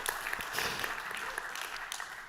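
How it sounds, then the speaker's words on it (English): Audience applause at a tech conference talk on a main stage, a brief, fairly faint patter of clapping heard from a distance that thins out over a couple of seconds. "You didn't have to clap, but I appreciate it, obviously."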